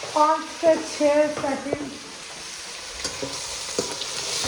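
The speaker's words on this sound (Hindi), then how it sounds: "ज़्यादा मैं अदरक लहसुन को फ्राई नहीं करूँगी" Ginger and garlic fry in a pan for a chicken mushroom karahi, a soft sizzle heard under a woman's brief speech and continuing alone afterward.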